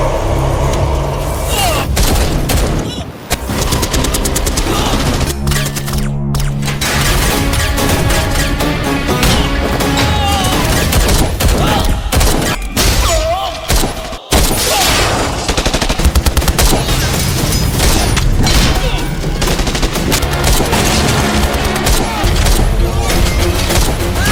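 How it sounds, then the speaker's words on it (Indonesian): Dense action-film soundtrack from an Indian movie fight scene: loud gunfire bursts and fusillades crash through a busy mix of impacts and music, continuous and intense throughout. "Aksi tembak-menembak dan saling pukul terjadi."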